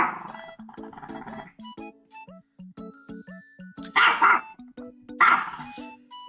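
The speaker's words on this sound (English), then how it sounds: "let me see what he's barking at" A dog barks in short bursts, sharp yips and woofs coming close together with a couple of louder barks, against a quiet indoor background with no talk.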